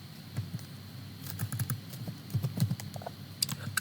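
Someone types a search into a web browser on a computer keyboard: quiet, irregular runs of keystroke clicks with short pauses between them, and no speech.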